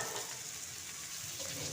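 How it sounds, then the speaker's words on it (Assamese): Ginger and garlic fry with golden brown onions in a pan, giving a soft, even sizzle that stays steady and fairly quiet for a brief moment with no talk. "আদা নহৰুখিনি দিয়াৰ পিছত অকণমান দেৰি ভাজি ল'ব লাগিব, ইয়াৰ গোন্ধটো যোৱালৈকে।"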